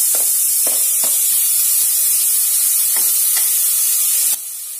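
Tomatoes sautéing in a pan with asafoetida and turmeric for sambar, giving a loud, steady sizzle punctuated by occasional spatula scrapes and stirs, then dropping slightly quieter at the end.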